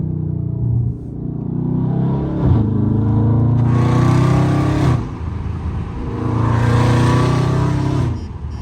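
A loud Dodge Charger Scat Pack V8 revs up and down repeatedly from inside the car, rising in pitch with each burst and dropping back as it downshifts, with no talking.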